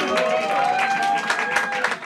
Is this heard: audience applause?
yes